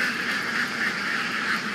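A dense flock of roughly 1,400 laying ducks kept in a pen quacks continuously, a steady, close chorus of overlapping calls with no pauses and no talk.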